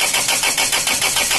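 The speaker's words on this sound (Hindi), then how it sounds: "सबसे एयर उड़ा के गाड़ी स्टार्ट मार के देखेंगे" A Land Rover engine cranks with a fast, rhythmic chugging of evenly spaced loud pulses, close and continuous, as the starter turns it over.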